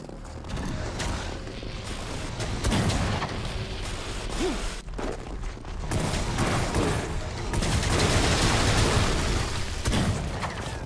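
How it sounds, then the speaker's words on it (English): Gunfire and explosions from the video game WRATH: Aeon of Ruin crowd together in dense, loud bursts and booms, with whooshes and mechanical clatter, running for about eleven seconds without pause. "the explosion killing their own guys"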